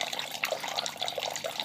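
Water runs off in a soft, continuous trickle during home beer brewing in a kitchen, faint and close with small bubbling splashes throughout.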